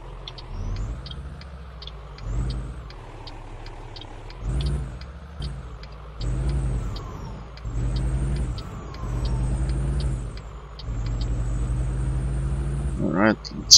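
An 8-ton truck in Euro Truck Simulator 2 accelerating: the engine drones and climbs in pitch through repeated gear changes, each rise followed by a brief dip, steady and moderately loud throughout.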